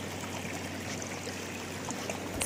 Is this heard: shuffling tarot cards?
no